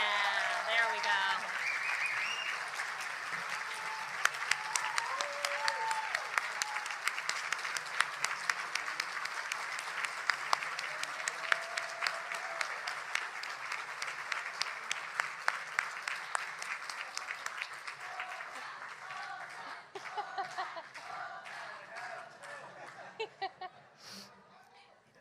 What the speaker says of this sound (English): We need another round of applause